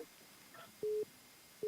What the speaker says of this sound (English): it's the beeping here. The phone lines are blowing up.